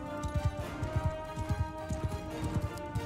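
Horse hooves galloping in the Mount and Blade 2: Bannerlord video game, a steady rapid clip-clop rhythm beneath a continuous game music and ambience bed.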